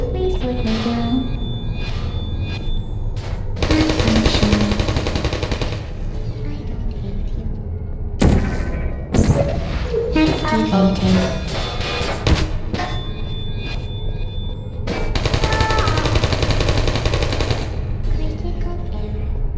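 In Portal, an ambush of sentry turrets fires repeated loud bursts of rapid machine-gun fire. The volleys come in several separate clusters, with metallic clanks and pings in the gaps between them.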